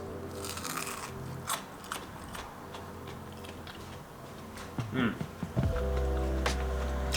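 Crisp crunching bites into a fried Indian lentil and kale fritter, eaten without dip, several sharp cracks and chews in irregular rhythm, close up, followed by a steady tonal hum at the end.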